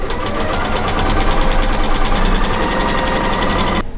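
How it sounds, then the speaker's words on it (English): A regular home sewing machine fitted with a walking foot runs fast and steadily as it machine-quilts, giving a loud, even mechanical rattle that stops abruptly at the end. "So when I'm sewing, I don't have to push the quilt under the presser foot"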